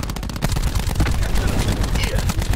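Rapid automatic gunfire in Call of Duty: Black Ops 4 fills the clip, with dense, loud bursts of shots and booming low-end impacts, plus a voice talking.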